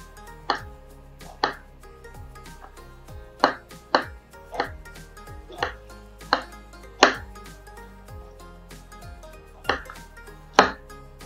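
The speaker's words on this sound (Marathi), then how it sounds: "इतका सोपा आहे कोबी कापणं" Cabbage chopped with a knife on a board, a series of about a dozen sharp, separate thunks at an irregular, unhurried pace, close and clear with no voices.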